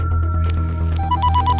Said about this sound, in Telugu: అన్నా వాళ్ళే చేస్తున్నారన్న ఫోన్